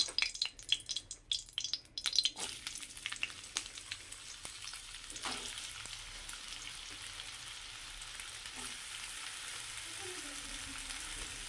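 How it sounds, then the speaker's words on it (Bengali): Carrots frying in ghee in a pan for vegetable fried rice give a steady close sizzle, with clattery stirring bursts at the start that settle into continuous crackling frying. "এবার আগে দিয়ে দিব গাজরটাকে।"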